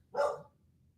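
A dog gives a single sharp bark up close during a severe thunderstorm, with faint background hum afterward.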